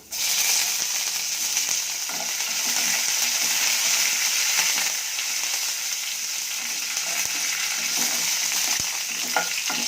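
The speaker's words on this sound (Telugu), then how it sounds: "ఇప్పుడు వేగిపోయింది. ఇప్పుడు కరివేపాకు రెమ్మలు వేస్తాము." Curry leaf sprigs crackle and fry in hot oil in a pan while cooking beetroot palyamu, a loud, close, continuous sizzle with small pops and no one talking over it.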